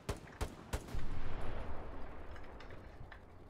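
Several sharp gunshots crack in quick succession in the game Hell Let Loose, followed by a rumbling burst of heavier fire and scattered distant shots fading out.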